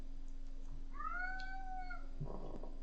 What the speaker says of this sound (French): C'est le chat qui parle.